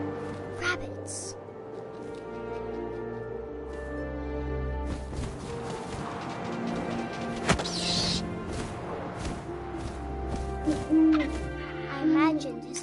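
Owl hooting in the video game What Remains of Edith Finch, soft hoots set against a windy, rustling night ambience with occasional thuds, while a voice narrates over it.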